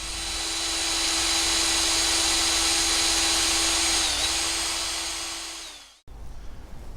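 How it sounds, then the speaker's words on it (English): A power drill bores steadily into the end of a metal rod, a loud continuous whine running for about six seconds before cutting off abruptly, leaving a fainter rough background. "I'm just going to drill a hole in the end of it"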